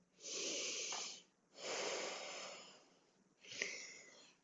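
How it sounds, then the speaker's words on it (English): Heavy, forceful breaths huff and puff during an exercise session, three long breathy bursts in a row, close and fairly quiet with no talking. "Big breathing, big breath support."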